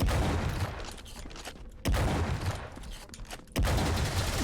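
Pump-action shotgun blasts in the first-person shooter Wrath: Aeon of Ruin, two loud booming shots spaced about two seconds apart amid continuous game combat noise.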